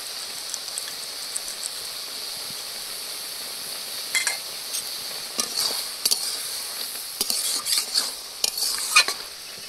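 Greens stir-fried with crab, peanuts and potatoes in a village kitchen pan: steady sizzle and hiss with scraping spatula strokes that grow busier and louder toward the end, no talk.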